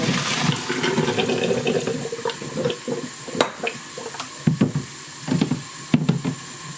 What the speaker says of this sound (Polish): więc to teraz ją odcedzę i przeleję zimną wodą